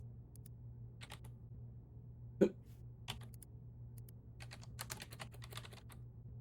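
Light keyboard clicking while playing an eerie old-school PC investigation game, with scattered irregular taps and short bursts of typing close to the microphone over a low steady hum, plus one sharper throat-like sound.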